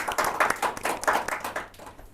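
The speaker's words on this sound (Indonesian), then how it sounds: "Oh, tepuk tangan dong." Audience clapping at an event about traditional Balinese arts, a steady patter of hand claps at moderate volume, with no talking over it.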